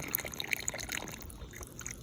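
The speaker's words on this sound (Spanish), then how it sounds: "todo el agua se está yendo rápido porque no tiene el tapón abajo" Water is poured into the drain of a car's panoramic sunroof, with the drain plug removed so it runs away quickly; a steady close trickling and splashing flow continues throughout.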